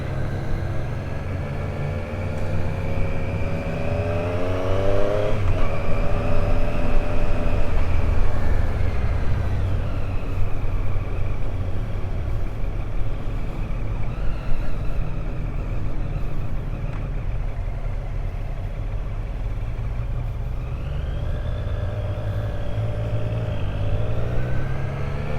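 A Triumph Street Triple 765 RS motorcycle engine drones and rumbles continuously while riding, rising and falling in pitch as it accelerates and shifts, with steady wind and road noise.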